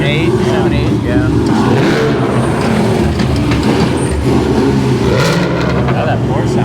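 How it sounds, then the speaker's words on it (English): A Porsche race car in the T2 class roars past during a COTA race weekend, its engine note loud and sustained with a steady revving drone that fills the whole stretch. "Oh, that Porsche sounds good too."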